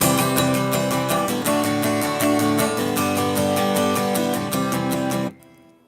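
Acoustic guitar strummed hard and fast with a pick, a loud steady rhythm of bright, jangly strokes that stops abruptly near the end.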